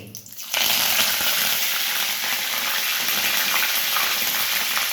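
Freshly washed curry leaves and whole spices hit hot oil for a vegetarian khichuri, bursting into a loud, continuous crackling sizzle after a quieter opening, close and steady with no voices.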